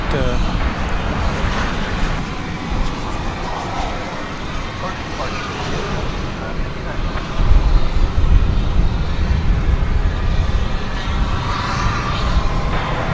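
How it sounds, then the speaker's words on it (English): An American Airlines 737-800 jet airplane at DFW Airport at night, a loud, broad, continuous engine roar that swells slightly midway, with a voice talking faintly underneath. "from Minneapolis, St. Paul, the Twin Cities, cometh American Flight 2104, a 737-800"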